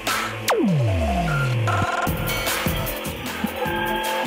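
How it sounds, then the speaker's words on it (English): An Aprilia Tuono V4 Factory motorcycle with an SC Project exhaust passes close by, its loud engine note sweeping sharply down, followed by fainter engine sounds and background noise. "I love this exhaust. It's extremely loud."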